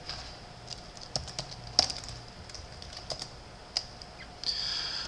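Quiet computer keyboard typing while entering an email address and password, sparse soft key taps at irregular intervals with a faint background hum.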